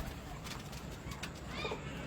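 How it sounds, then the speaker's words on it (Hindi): A Golden Salara pigeon, a champion flying pigeon from Sheikhupura, gives a brief faint cooing call near the end, low in level against steady outdoor background noise with scattered light clicks. "ये देखें गोल्डन सलारा कबूतर,"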